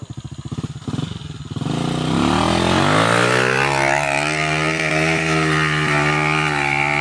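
Motorcycle engine on a rough, potholed trail: a few sputtering pulses, then a loud, close revving drone that climbs in pitch and holds steady.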